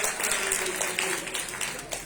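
A church congregation at a Sunday service claps hands in a brief burst of applause, a dense patter of many hands with a voice speaking over it.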